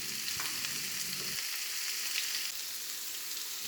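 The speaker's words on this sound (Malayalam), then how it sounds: "ഇനി നമുക്ക് ഈ സവാള ചെറുതായിട്ടൊന്ന് വഴറ്റിയെടുക്കാം." Three medium sliced onions sauté for egg kurma, giving a steady, close hiss and crackle in the pan with a few stirring scrapes early on and no voices.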